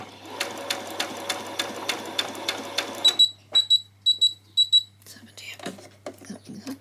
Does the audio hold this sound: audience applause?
no